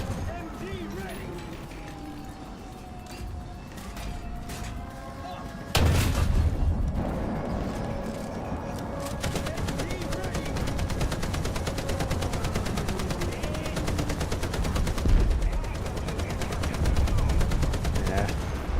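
Machine gun fire in a video game starts with an abrupt loud burst and then rattles on in continuous rapid rounds with occasional heavier booms, while a voice talks over the firing.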